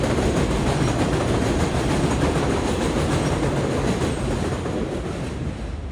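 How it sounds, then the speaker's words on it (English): An elevated J subway train rumbles steadily past nearby in Woodhaven, Queens, New York City, a loud continuous roar with rhythmic wheel clatter that eases slightly toward the end. "Hey, there's the J train."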